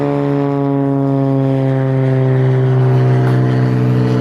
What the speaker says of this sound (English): that's an airplane flying overhead for whatever reason. Really low.